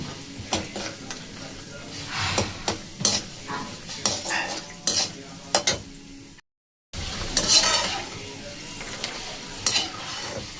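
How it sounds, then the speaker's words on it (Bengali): Peanuts frying slowly on a low flame in a pan, a soft steady sizzle broken by repeated stirring scrapes and clinks of a utensil, with a brief silent gap partway through. "বাদামও আমি একটুখানি ভেজে নেব। এটাও লো ফ্লেমে ভাজতে হবে একটু সময় দিয়ে।"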